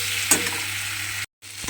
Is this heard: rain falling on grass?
no